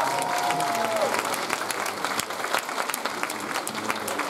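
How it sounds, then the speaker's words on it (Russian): Concert audience applauding steadily, a dense, loud wash of many hands clapping throughout with a brief tonal sound near the start and no talk. "Ничего, вы хлопаете"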